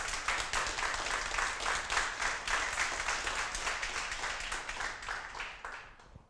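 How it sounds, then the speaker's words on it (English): A meetup audience at a Cloud Native Prague Kubernetes event claps steadily for about six seconds, a dense, fairly loud, even wash of many hands that tapers off at the very end. "So can you please make some applause for Keboola?"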